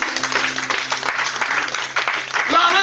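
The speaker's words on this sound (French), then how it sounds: "Mais ça s'acclame ça." A church congregation breaks into scattered applause that swells and continues throughout, mixed with voices and cheering.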